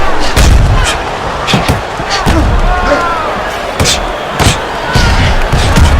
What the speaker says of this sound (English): Blocks that punch.